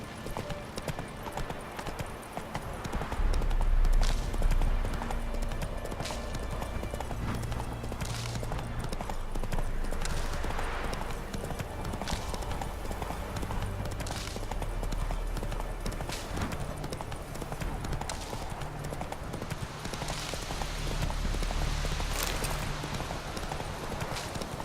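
A horse galloping in The Witcher video game, with steady, rapid hoofbeats that continue loud and near throughout, over a rumbling game ambience and occasional clattering.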